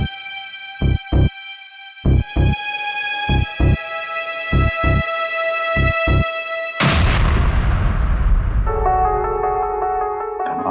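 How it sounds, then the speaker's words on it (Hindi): A sharp, loud explosion from a laptop in a TV crime drama, a sudden broadband blast that decays into a rumbling tail. Rhythmic dramatic music stabs come before it and tonal music follows. "धमाका"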